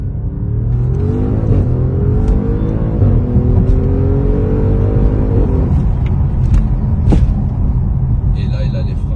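An Audi RS6 with a sequential gearbox revs hard, its engine tone climbing in rising sweeps over a deep rumble, loud and near, while people talk over it.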